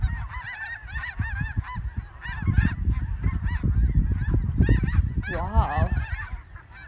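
Geese honk loudly and repeatedly at a homestead pond in North, several birds calling over one another in a continuous noisy chorus, close by, with wind and outdoor rumble underneath.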